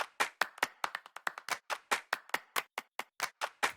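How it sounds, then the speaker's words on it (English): A programmed clap loop run through the Transit effects plugin plays crisp, dry hand claps in a fast syncopated rhythm, about twenty hits in under four seconds, each with a short tail. "let's start off with the clap loop, which sounds like this."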